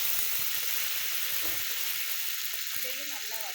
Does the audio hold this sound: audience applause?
no